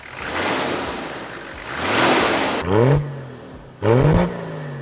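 Toyota Land Cruiser 70 Series with a 4.2-liter naturally aspirated 1HZ diesel inline-six: a steady rushing drone shifts into two loud, sharp revs, each rising then falling back, heard close with no talk.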